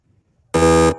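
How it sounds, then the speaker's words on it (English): One loud, harsh timing buzzer at a speech contest sounds for about half a second, abrupt on and off, after a brief moment of faint background noise. "single buzzer"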